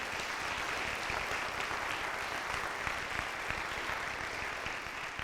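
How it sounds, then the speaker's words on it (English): Steady applause from a school audience at a winter band concert, filling the space with dense, even clapping that holds at a moderate level throughout without a break. "How about a hand for the 8th graders who came to the concert tonight?"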